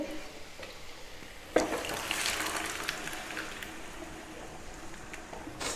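Boiled, mashed vegetables drop into hot village ghee for pav bhaji, giving a sudden thud followed by a soft, steady sizzle and stirring that continues at low volume.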